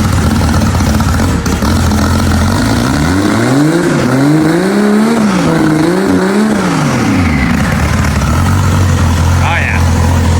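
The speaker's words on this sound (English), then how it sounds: "we'll rev this one up real quick" A car with a 2JZ engine revs up from idle, the engine note climbing and wavering through several throttle blips before settling back to a loud, close idle.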